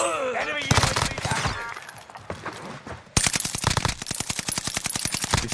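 Rapid automatic STG 44 rifle fire in Warzone Rebirth Island, bursts of close, loud shots at first, a pause with scattered sounds, then a long fast continuous volley.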